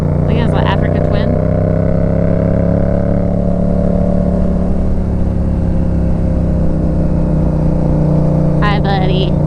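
A GS-07 motorcycle fitted with a Yoshimura exhaust climbs uphill on Pikes Peak, its engine holding a loud, steady, close drone for the whole stretch.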